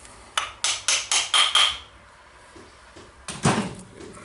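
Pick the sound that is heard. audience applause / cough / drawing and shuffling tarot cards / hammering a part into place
hammering a part into place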